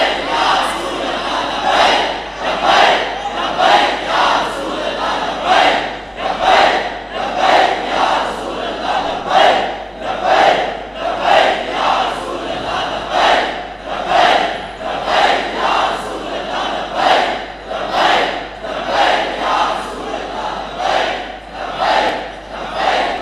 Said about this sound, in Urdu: سارے بولو یار اے نعرہ تے لانا ہے